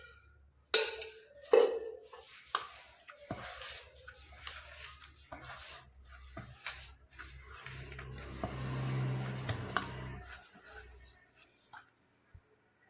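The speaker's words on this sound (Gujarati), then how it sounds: "હવે તેલ નાખી અને લોટને કૂણવી લઈશું" Green-coloured dough being kneaded with oil by hand, giving soft squishy, slapping and pressing sounds with occasional knocks and clinks of a bowl, close and fairly quiet.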